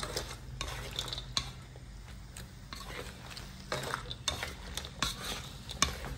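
Crispy banana chips are gently tossed in a pan to coat them evenly, producing a series of light rattling scrapes and clinks in irregular bursts over a faint background, quiet and close, with no voices.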